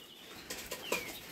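Small quail birds flap their wings in a brief burst of soft fluttering, with a couple of quick wingbeats and faint chirps nearby in a quiet backyard urban farm enclosure.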